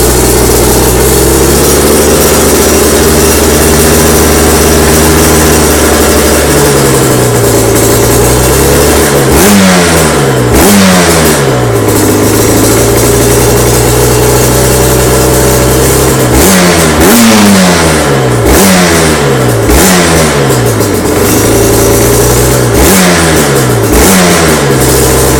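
A 2011 Aprilia RS125 two-stroke motorcycle engine, started cold and warming up, idles loudly up close, then blips through repeated sharp revs that rise and fall in quick bursts.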